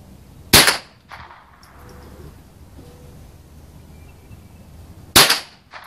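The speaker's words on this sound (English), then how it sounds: "Shot straight through the center too." Two sharp, loud cracks from a Remington 597 .22LR rifle fired at a target, one near the start and another about four and a half seconds later, separated by quiet outdoor background.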